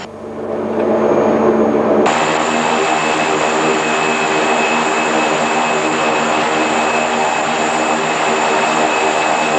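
Propeller aircraft engines run with a loud, continuous droning roar that steps up sharply in intensity a couple of seconds in, then holds steady with a persistent high whine layered over the rumble.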